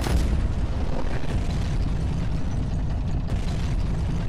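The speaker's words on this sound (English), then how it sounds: "Oh, they got grenade launchers." Grenade launcher blasts in the game Squirrel with a Gun come as a continuous heavy rumble of booms and bursts, loud and dense throughout with no talking.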